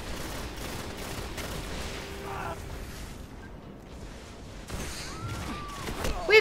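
Rapid gunfire and explosive bursts from Destiny's Mayhem Clash multiplayer mode on a Dreadnought-themed map, with repeated shots in a continuous game-audio mix that swells louder near the end.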